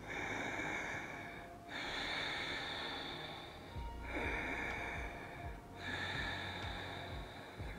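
Slow, deep breaths during a beginner yoga class, with long audible inhales and exhales at an even rhythm and brief pauses between them, close and fairly quiet.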